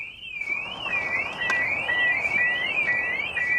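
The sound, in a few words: aftermarket car alarm going off on 1989 car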